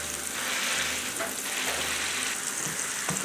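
Eggs frying on a hot griddle, a continuous bright sizzle with soft crackles and a few scraping touches, close and loud with no talking.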